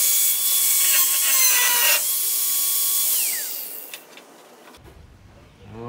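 Power tool cutting out rusted sheet metal from the cowl panel of a 1968 Chevy C-10, a loud sustained whine for about three seconds that fades and stops, followed by quieter rattling and handling noise.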